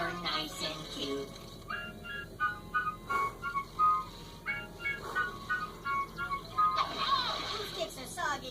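A whistled tune of short melodic phrases, up close and fairly loud, mixed in with a child-like voice talking.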